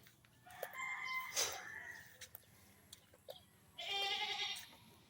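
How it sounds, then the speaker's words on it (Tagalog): Goats bleat in a few short, wavering cries, one near the start and a longer one toward the end, amid farmyard noise and a rooster-like call. "Doon yung mga kambing guys, nag-iingay na."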